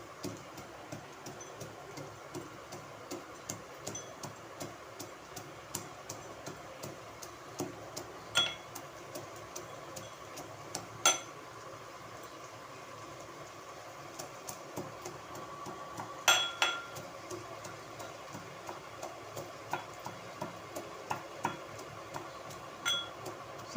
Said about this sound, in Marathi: असे खलबत्त्यामध्ये कुटून घालायचे